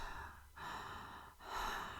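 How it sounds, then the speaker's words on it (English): Breathing through a tight, nearly closed letterbox-shaped mouth, heard as two or three close, airy breath strokes with short gaps between them, soft and alone. "you can hear that with that tighter, more closed mouth breathing, my throat is more closed as well"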